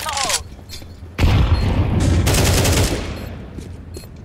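A grenade explodes in a Counter-Strike 2 match on the Mirage map, a sudden loud boom followed by a sustained roar of debris and gunfire-like crackle lasting over a second before fading.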